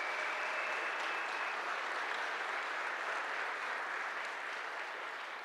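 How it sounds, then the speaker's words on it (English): A conference audience at a tech expo gives sustained applause for exhibitors and sponsors, a dense, steady wash of many clapping hands that fades slightly toward the end. "can we also give a huge round of applause to all the exhibitors and sponsors who came and showed up"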